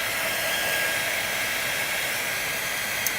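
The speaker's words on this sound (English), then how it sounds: "You could use a hair dryer too." A hair dryer blows steadily and loudly throughout, drying a handmade mushroom placemat and napkin set in a craft project, a constant broadband rush with no talking.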